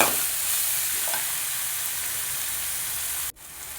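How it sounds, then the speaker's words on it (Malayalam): Crushed ginger and garlic sauté in a pan for a Kerala-style roasted-coconut chicken curry, giving a steady, close sizzle with stirring throughout and a brief sharp dip near the end. "അതും അതിലിട്ട് നന്നായിട്ടൊന്ന് 1 മിനിറ്റ് വരെ ഒന്ന് വഴറ്റിയെടുക്കാം."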